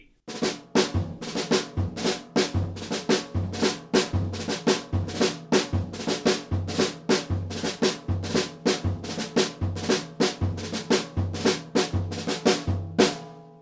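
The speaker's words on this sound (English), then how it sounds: "Let's listen to it with the single drag." Drum pattern played with single drag rudiments in a triple feel, giving crisp, evenly spaced strokes with grace notes over a low pulse on each beat, close and alone for the whole stretch.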